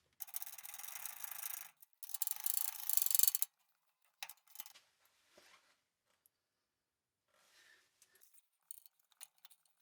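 Control arm bolts are ratcheted tight by hand during a front air ride install, with a few long bursts of rapid clicking followed by shorter, scattered ratchet clicks and small metallic taps, close up with no talking.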